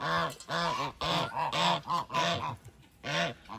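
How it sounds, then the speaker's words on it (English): A goose at a farm animal sanctuary honks loudly and close by, a rapid series of about eight nasal honks in quick succession with no talking. "That's a beautiful goose."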